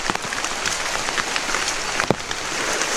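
Rain falls heavily nearby in a wet outdoor setting, a dense, even patter that holds throughout, with one sharp tap near the end and no speech.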